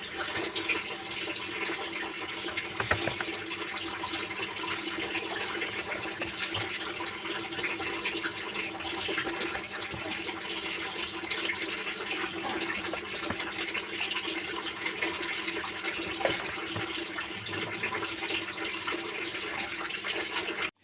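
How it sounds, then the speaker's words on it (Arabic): Water being poured into a tray holding stale baguette-style bread, a continuous splashing and trickling stream that runs steadily for about twenty seconds, close and moderately loud, with occasional small knocks and no voices. "وغليت ميه وحطيتها اهوت"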